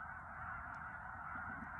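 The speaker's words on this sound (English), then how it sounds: "there are so many birds in this lake" A dense, constant chorus of many honking geese and other waterfowl on a lake along the North Country Trail, a continuous distant wash of calls without pauses, faint overall.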